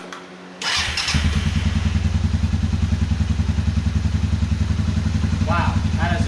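A Suzuki Quadrunner 500 ATV, repaired for backfiring and failing to rev, cranks and catches, then settles into a loud, steady, close thumping idle with a rapid even beat.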